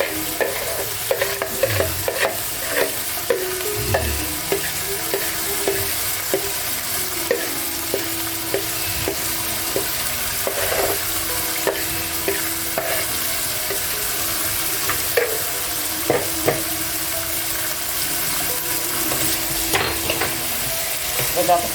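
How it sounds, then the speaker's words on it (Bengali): Marinated chicken for a Bengali chicken do pyaza sizzles steadily in a hot pan while a spoon scrapes and stirs it, with frequent clinks and scraping strokes over a continuous close frying hiss. "এবার আমি ম্যারিনেট করা মাংসটা দিয়ে দিলাম।"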